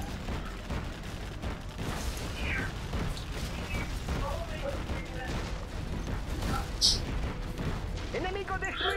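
Automatic machine gun fire from tunnel emplacements in the strategy game C&C Generals, a dense continuous clatter of gunfire with distant booms and mechanical battle noise, under a voice talking throughout.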